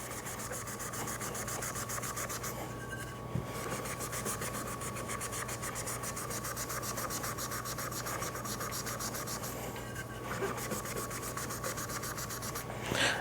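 Scotch-Brite pad scuffing the surface of a powder-coated tumbler, a close, continuous abrasive rubbing in steady back-and-forth strokes with a few brief pauses and knocks, no talking.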